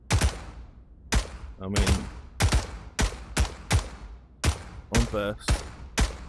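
Automatic German rifle with no selector switch, firing in the VR game Pavlov's Shack on a Hell Let Loose map: about eleven sharp, loud shots in irregular bursts, with brief speech between them.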